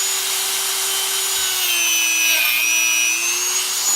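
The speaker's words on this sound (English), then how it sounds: "I just use a little wire wheel and a Dremel. Let's try to clean that socket, that side." A Dremel rotary tool spinning a small wire wheel scrubs a pinball lamp socket, giving a steady, loud, close high whine with a gritty brushing edge and slight pitch dips under load.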